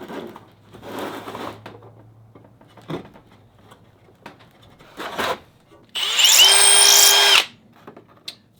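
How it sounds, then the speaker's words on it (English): Holes drilled into wooden beads for a bead maze toy with a power drill: scraping handling sounds, then a loud steady high whine for over a second, followed by a short clack. "I drilled half of them with a bigger hole"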